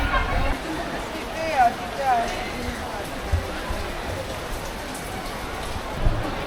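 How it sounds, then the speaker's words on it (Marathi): Steady rain patters and hisses over a surface, with faint background noise and a couple of brief squeaky sounds. "अचानक कुठून तरी पाऊस आला आहे"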